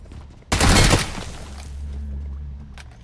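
A burst of automatic gunfire in the mobile battle-royale game PUBG Mobile: a loud, dense volley of roughly half a second, followed by a steady low rumble.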